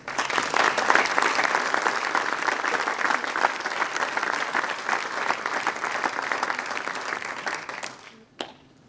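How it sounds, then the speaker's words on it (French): Sustained applause from a crowd at a municipal New Year's greetings ceremony in Capbreton, dense and steady for about eight seconds before cutting off abruptly, followed by one last stray clap. "Je vous demande des applaudissements."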